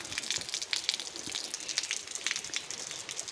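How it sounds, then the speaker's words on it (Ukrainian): Light rain falling outdoors near a house with clogged gutters and water running down walls, a steady soft patter of scattered drops, close and gentle with no talking. "дощик іде ще. Не сильний"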